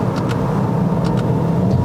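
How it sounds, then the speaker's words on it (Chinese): In-cabin engine drone from a Toyota Corolla Sport 1.2T turbo with a CVT, heard briefly while it is driven on a hilly road toward Genting in Malaysia. A loud, steady low hum runs throughout, with faint clicks and no speech. "你看它的这个，你看我降档啊"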